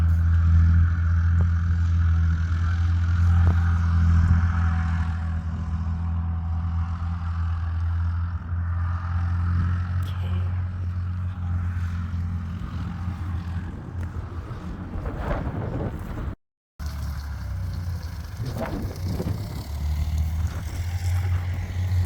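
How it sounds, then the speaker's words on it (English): An old farm tractor works on nearby land, giving a steady, low engine drone with rumbling harmonics, along with some wind buffeting on the microphone. "He's got a pretty old tractor, but he gets the job done."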